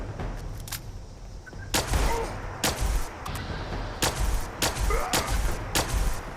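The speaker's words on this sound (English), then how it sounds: "It took you forever to finally start shooting." Gunfire from the video game Fallout 76 rings out in loud, repeated single shots at irregular intervals over a steady rumbling background.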